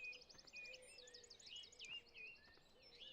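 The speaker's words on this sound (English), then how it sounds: "Listen to them. Blackbird there." A blackbird sings outdoors at Blickling, with several fluting, warbling phrases at moderate distance over a quiet open-air background. Faint chirps from other birds are mixed in, and no one speaks.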